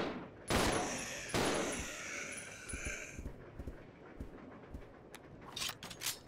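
Two loud gunshot blasts ring out early in Resident Evil Zero HD, followed by quieter scattered shots and rattling game noise, with bursts of crackling impacts near the end.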